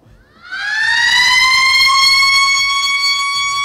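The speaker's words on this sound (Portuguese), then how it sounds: "A sirene do Afonso Pena." The Afonso Pena siren wails up from silence, a loud, pure rising tone with strong harmonics that climbs over about half a second and then holds steady, heard alone.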